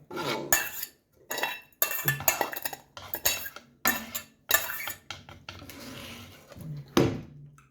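Metal utensil clanks and scrapes against a pan with charred bits left from frying a dorade fillet, in a run of short bursts separated by brief pauses, close up with no talking.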